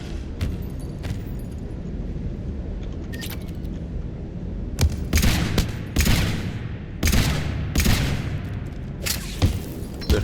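Weapon fire in Mass Effect 3 rings out in sharp, well-spaced shots, a few scattered cracks early and then a cluster of loud blasts with ringing tails near the end.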